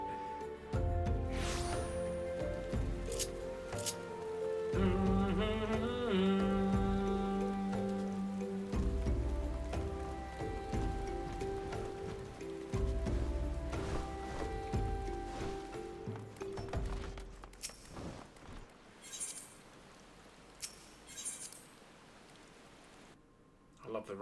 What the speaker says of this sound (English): I love the rain noise.